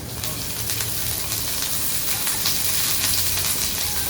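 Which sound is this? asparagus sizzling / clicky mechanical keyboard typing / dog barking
asparagus sizzling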